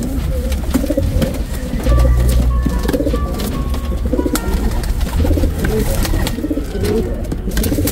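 Racing pigeons coo in repeated soft, throaty bursts close by, layered over a steady low background rumble with occasional faint clicks and chirps.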